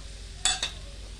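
Homemade masala hits hot oil that already holds whole spices, giving two quick sizzling bursts, the first sharper and the second softer, over a quiet kitchen background.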